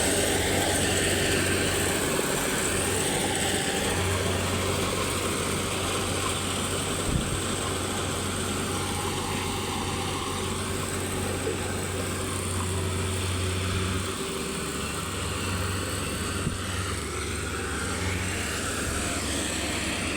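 Combine harvester cutting a rice paddy field, a steady engine drone with low rumble and mechanical whirring running unbroken throughout, heard at moderate distance with no speech.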